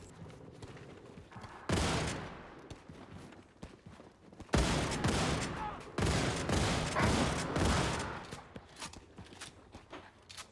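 Gunfire in the shooter Wolfenstein II comes in loud, dense bursts of rapid automatic fire, separated by short quieter gaps with smaller impacts and movement sounds.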